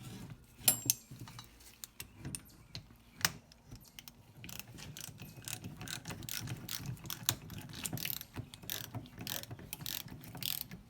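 A hand ratchet snugs a block plug into a rear brake caliper of a Polaris Ranger during a rebuild, with bursts of close, rapid clicking strokes, short pauses between them, and faint tool handling.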